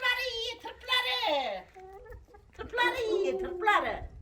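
Chickens clucking in a garden, loud and close in two drawn-out bursts separated by a short quiet gap, with no talking.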